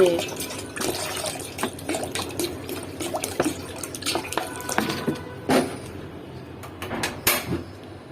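Water is poured into a pot at home to be boiled, heard as irregular splashing and dribbling with clinks and knocks of the vessel, while people talk over it.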